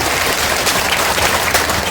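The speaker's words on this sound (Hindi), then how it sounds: "एक बार जोरदार ताली बजाइए आदरणीय प्रसाद जी को" Crowd applause at a village political rally in the heat, a dense continuous patter of many hands clapping loudly throughout with no voices over it.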